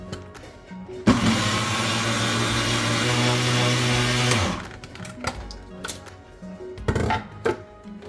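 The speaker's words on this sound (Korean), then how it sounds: "이렇게 조금씩 넣고 이렇게 갈리면 아주 곱게 갈려요" An electric grinder milling glutinous and non-glutinous rice for red bean porridge, a loud steady whirring drone for several seconds that cuts off, followed by scattered knocks and clatter from handling the machine.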